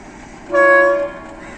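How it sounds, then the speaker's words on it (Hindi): The locomotive of the 134 Down Kohat Express gives a light, short whistle at Kohat railway station in Pakistan, a single clear tonal blast of about half a second over quiet station ambience. "ये HBU ने हल्की सी विसल दी है"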